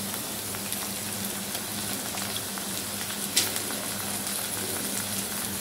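Soaked chana dal frying with green chillies and curry leaves in a pan for bottle gourd poriyal, giving a steady soft sizzle with faint crackles throughout and no talking.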